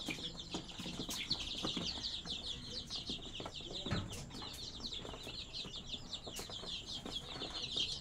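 Sonali chicks crowd in to eat as feed is scattered on a home poultry farm, their thin high peeps chirping nonstop in a dense, overlapping chorus close by, with a few soft scuffles and no talking.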